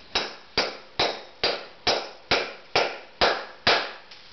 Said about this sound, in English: We're going to take the hammer again